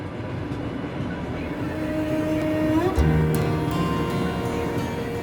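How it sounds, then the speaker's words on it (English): A Trans-Siberian train crossing into Mongolia rolls along the rails with a steady low rumble and faint rhythmic clacking, a brief tonal squeal rising midway. "train crosses into Mongolia"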